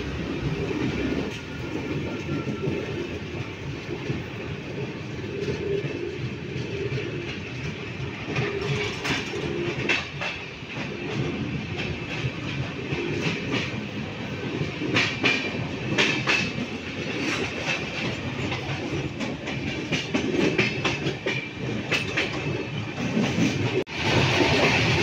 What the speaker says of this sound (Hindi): हमारे सामने से जो है ये ट्रेन अभी जनशताब्दी भाटापारा आई है।